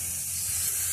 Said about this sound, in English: I just take this spray and really just fog the heck out of the inside of here